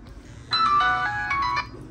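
A Nokia N95 mobile phone plays a bright electronic melodic ringtone, loud and close, lasting about a second before cutting off, over a quiet background.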